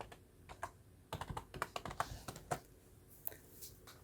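Rapid keystrokes on a computer keyboard while entering an HLOOKUP formula in an Excel spreadsheet, irregular bursts of quiet, close clicks with brief pauses between them and no talking.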